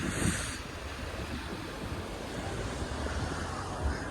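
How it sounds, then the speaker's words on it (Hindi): Wind blows across a mountain roadside on the way to Shimla, a steady broadband rush with microphone buffeting, even and continuous throughout. "यहाँ पे हवा चल रही है"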